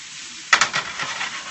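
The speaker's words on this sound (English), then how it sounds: "usually I flip my food like that really well, but this pan, number one, is full" Pork stir fry sizzling hard in a crowded pan, with a sudden burst of clattering, spattering noise as the food is flipped and tossed, then settling back into a steady hiss with a few smaller stirs and scrapes.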